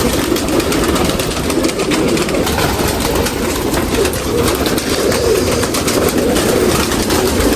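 Pigeons being let out coo amid a dense, loud wash of noise that stays steady throughout, with the cooing folded into a broad rumble.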